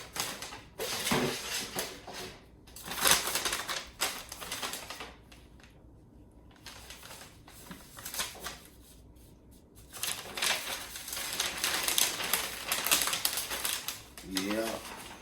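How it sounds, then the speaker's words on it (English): Butcher paper crinkles and rustles as a smoked brisket is wrapped tightly, in loud, close bursts of crackling and folding with quieter pauses between. "We're going to wrap it in some butcher paper, and then put it back out and let it finish the cook."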